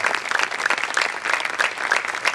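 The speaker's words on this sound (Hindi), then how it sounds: "जोरदार तालियों के साथ इनका फिर से हौसला अफजाई करें आप" Audience applause at a dance performance during the Murthal Mahotsav cultural festival, a steady, dense clapping with rhythmic peaks, moderately loud and close throughout.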